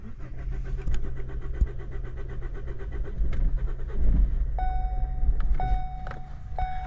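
A car engine cranks and catches, rumbling low and steady for several seconds, with electronic warning chimes beeping toward the end.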